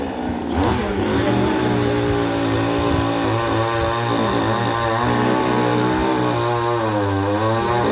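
A chainsaw roars loud and close while cutting down a large dried jackfruit tree at a home, its engine note rising and falling steadily as the blade bites through the wood.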